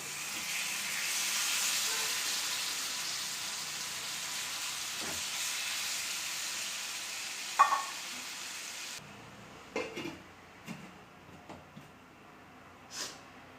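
Chicken with turmeric frying in a pan makes a soft, steady hiss that cuts off suddenly, followed by a few faint clinks and knocks in the quiet.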